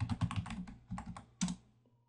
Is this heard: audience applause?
no